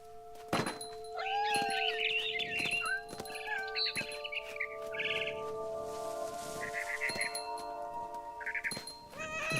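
Cat meows and yowls from the video game What Remains of Edith Finch rise in several short, wavering calls over a steady musical backdrop, with soft thumps and a brief bird-like chirp mixed in.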